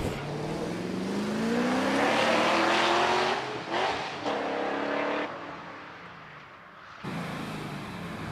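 A 1840cc Mazda MX-5 races up the Prescott hill climb, its engine loud and close, revving through rising gear pulls with brief lifts between shifts before fading slightly and surging again.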